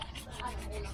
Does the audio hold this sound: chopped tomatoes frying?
no